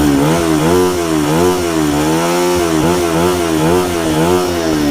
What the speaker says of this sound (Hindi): सबसे पहले इसका जो है ना एग्जॉस्ट साउंड आप लोग सुन लो, ठीक है, कि BS3 का साउंड कैसा है